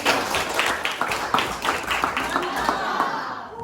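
A class at a senior high school applauds a student group, with a burst of many hands clapping close by in an irregular, dense patter that fades slightly toward the end.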